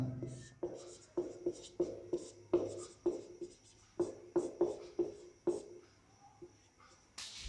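Pen scratching on paper while working a maths problem, a steady series of short close strokes in irregular rhythm, with a brief louder rustle at the end.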